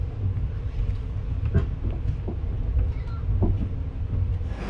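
LHB Kolkata-Patna Garib Rath Express train arriving at Patna Junction, a low continuous rumble with faint rhythmic clunks and rattles from inside the coach, no one speaking.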